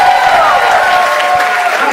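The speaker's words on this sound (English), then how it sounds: "Clap for the people that had guts to come up here." Comedy club audience applauding a stand-up show, a steady, dense wash of clapping with some cheering voices mixed in, loud and sustained throughout.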